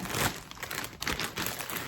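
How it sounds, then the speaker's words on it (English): Plastic bag crinkles and rustles as cross-stitch needlework is slipped inside, close and fairly quiet, a run of irregular crackly bursts with a brief pause midway. "I put it in a plastic bag"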